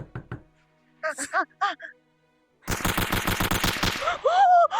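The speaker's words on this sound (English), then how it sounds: "Stop shooting!" Gunfire erupts in a VRChat roleplay scene: a rapid, evenly spaced burst of close automatic shots follows earlier scattered knocks and short tones, and a voice cries out over the end of the volley.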